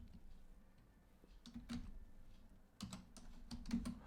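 Keys tapped on a computer keyboard while entering numbers, a few quiet scattered clicks early on, then clustered quick keystrokes toward the end, close and soft with no speech.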